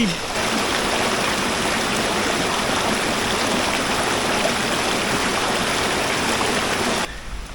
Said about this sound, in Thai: วิ่งมาเจอลำธารเฉยเลย